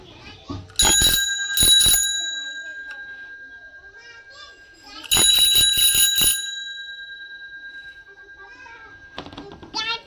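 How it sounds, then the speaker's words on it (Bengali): Bell rung to call someone, bright metallic trills in two quick bursts of rapid rings, each fading out slowly, close and loud, with a voice talking briefly at the end. "বেল বাজাবো শুধু"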